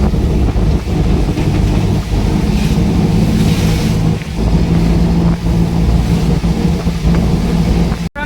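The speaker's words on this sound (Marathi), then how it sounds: "जोरदार पाऊस पडत आहे" Heavy rain pours in a loud, dense roar with gusty rumbling swells, heard from a vehicle on a winding road, steady for several seconds before a brief cut near the end.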